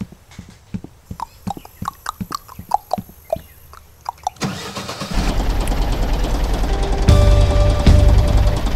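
A tractor engine in the farming video game Der Landwirt 2014 cranks and catches, then settles into a steady low rumble that grows louder, after a series of short clicks and knocks.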